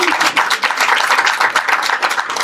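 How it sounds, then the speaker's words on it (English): At a press conference, an audience breaks into dense, close applause, with many hands clapping continuously and fairly loudly for a couple of seconds. "Yeah, y'all can clap for that."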